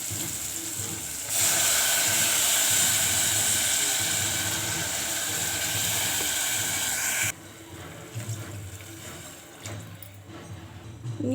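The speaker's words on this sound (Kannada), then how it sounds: "ಇದೇ ಪಾತ್ರೆಗೆ ನಾನು ನೀರು ಹಾಕೋತಾ ಇದ್ದೀನಿ" Water pours into a hot cooking pot while making pulao, with a loud, steady rushing hiss that lasts about six seconds. It then drops off abruptly to a quieter bubbling background.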